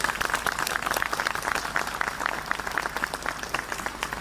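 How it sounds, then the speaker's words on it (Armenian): Sustained crowd applause at a street march rally, dense and steady throughout with a busy wash of many hands clapping at once, with no pauses. "առաջարկում եմ մի հատ մեր այսօրվա երթին ծափահարենք"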